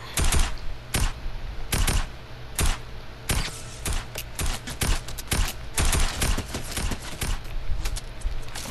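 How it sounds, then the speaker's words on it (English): Rapid video-game gunfire crackles in fast bursts and sustained automatic strings, loud and near, with sharp overlapping shots filling nearly the whole stretch. "I'm getting shot from behind and in front"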